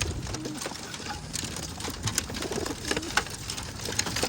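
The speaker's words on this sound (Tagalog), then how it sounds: "So bali 40 na ibon to mga kalapatids. So pakawalan na natin." Racing pigeons coo and flutter during a release at the start of a 30 km training toss, with soft repeated coos and bursts of activity close by, and a voice talks briefly in the background.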